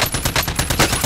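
Rapid automatic gunfire in Call of Duty: Modern Warfare, a loud, close burst of rattling shots repeating rhythmically for about a second with no talk over it.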